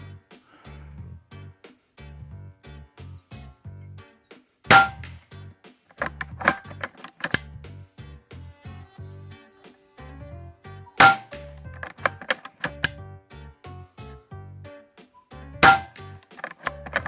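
Edgun Lelya 2.0 .22 air rifle firing pellets at a 50-yard range: three sharp, loud cracks spaced several seconds apart, with lighter clicks and handling knocks between them.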